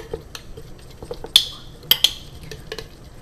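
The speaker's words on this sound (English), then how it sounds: "I'm gonna give that a stir" A metal spoon stirring chimichurri, a green herb condiment with added oil, in a bowl, giving soft wet scrapes and a few sharp clinks against the side, close and otherwise quiet.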